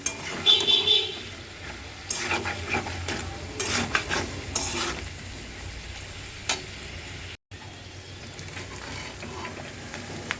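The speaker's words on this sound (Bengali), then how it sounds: "পেঁয়াজের সাথে আরও কিছুক্ষণ ভেজে নেব বটটা" Tripe fries with onions and garam masala in a pan, a soft continuous sizzle broken by bursts of stirring scrapes and utensil clatter, close and moderately loud, with a brief dropout partway through.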